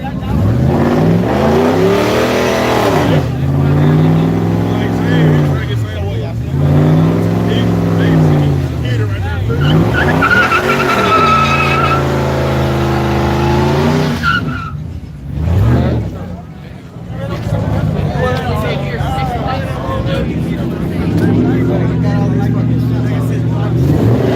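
A Dodge Ram pickup races down the Yello Belly Dragstrip under the lights, its engine droning loud and close with rising and falling revs through repeated pulls, while voices talk over it throughout.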